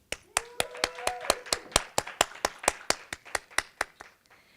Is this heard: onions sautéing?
no